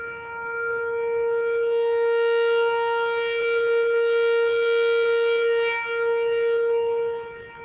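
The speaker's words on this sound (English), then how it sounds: "the tornado sirens going off." Tornado sirens wail in Catlin during severe weather, a sustained steady civil-defense tone with strong harmonics that holds loud and even, dipping slightly near the end, with no voices over it.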